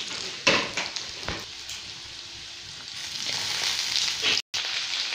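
Green chillies and bay leaf land in hot oil with already fried potatoes, giving a steady close sizzle with a few sharper crackles and stirring scrapes near the start.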